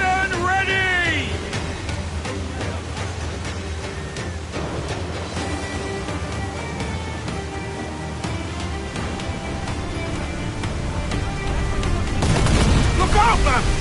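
Cannon fire in a naval battle in Assassin's Creed IV: Black Flag, a dense, loud stretch of booming blasts and gunfire under shouting crew voices and game music, with a heavier rumbling burst near the end.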